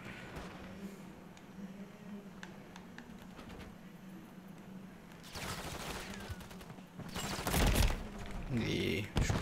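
Gunfire in the video game Call of Duty Modern Warfare 3: after a quieter stretch of game ambience, loud bursts of automatic fire rattle near the end, rising to the loudest volley.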